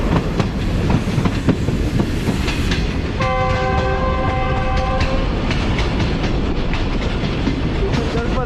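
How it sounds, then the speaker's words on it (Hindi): A passenger train approaching Bahawalpur railway station sounds its horn in one clear, sustained blast lasting about two seconds, over the constant loud rumble and clatter of the carriages. "ड्राइवर साहब ने विसिल बजाकर आगाह कर दिया है मुसाफिरों को"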